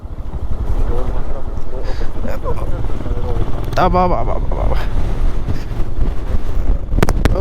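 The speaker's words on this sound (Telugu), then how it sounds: "ఓ ఎక్స్ట్రీమ్ లెవెల్ విండ్ బ్లాస్ట్ మాకు ఆపోజిట్లో." A strong, heavy wind blasts across Mullayanagiri peak in Chikmagalur during a storm, a loud continuous roaring buffet battering the microphone throughout, with a voice briefly calling out over it midway.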